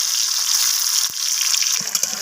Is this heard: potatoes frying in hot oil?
yes